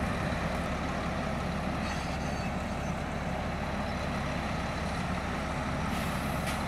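A Volvo off-road truck runs during loading, its engine giving a constant, dense, low rumble that stays steady and fairly loud from start to finish with no voices.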